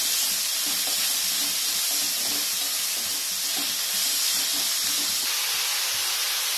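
Onions softening in a pan for momo filling give a steady, dense hiss of frying that stays even and continuous throughout, close and fairly loud, with no talking.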